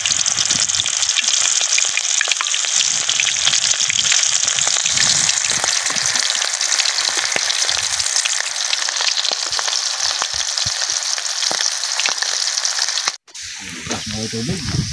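Fresh squid frying in cooking oil, a loud continuous sizzle and crackle that runs steadily for most of the time before cutting off abruptly near the end.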